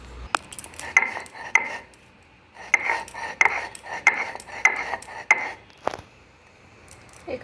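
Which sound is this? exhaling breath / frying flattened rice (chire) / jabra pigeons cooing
frying flattened rice (chire)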